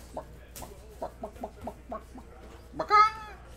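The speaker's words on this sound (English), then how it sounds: "The chicken says." A chicken clucks in a quick series of short, clipped calls, then lets out a louder drawn-out squawk, close and clear over a quiet background.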